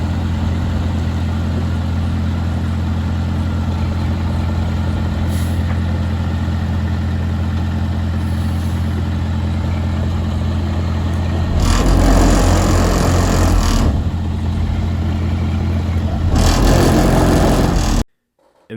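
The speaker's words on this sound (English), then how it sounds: "You can see the dump truck was able to get back there." A dump truck engine idles steadily at a backyard regrading job, a continuous low rumble close by with a couple of brief surges in loudness, then cuts off abruptly at the end.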